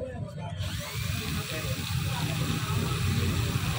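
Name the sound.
sanding with fine 1500-grit sandpaper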